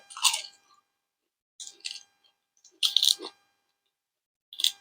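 Close, crunchy chewing of bitter laab, four separate bursts of wet biting and mashing with short silent pauses between them.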